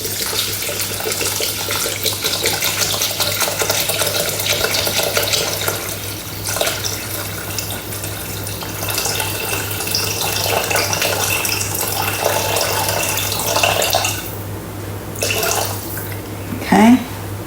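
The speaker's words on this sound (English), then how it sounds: "Now we're going to add in 850 grams of water." Water pouring steadily into a Thermomix bowl while making sausage and pea risotto, a continuous splashing stream under a low machine hum, ending with a few light knocks.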